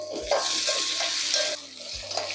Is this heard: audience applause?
no